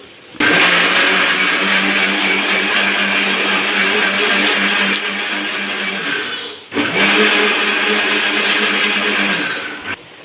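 A kitchen mixer grinder blends dosa batter with cumin and salt, a loud close motor whir running for about six seconds, stopping briefly, then starting again for a second burst.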